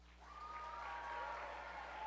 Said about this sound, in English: So for our tech crew, big round of applause.